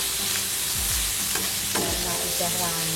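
Papaya vegetable stew with petai being stirred in a hot pan, a loud continuous sizzle broken by scraping strokes of the spoon, no one speaking.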